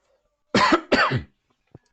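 A person close to the microphone gives two quick, harsh coughs in succession, followed by quiet and a couple of faint small noises.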